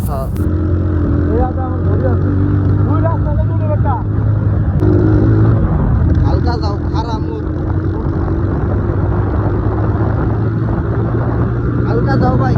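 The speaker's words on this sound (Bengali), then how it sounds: "আপনারা বাইকের রাইডটি দেখতে থাকুন এবং এনজয় করুন" A motorcycle rides along a road near Gulbagicha park in Jamalpur, its engine droning steadily and loudly throughout with wind and passing traffic, while people talk over the noise.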